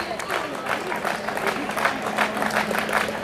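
A crowd at an ITI Chamba function applauds to welcome a guest, with rhythmic, moderately loud clapping throughout and a voice talking over it.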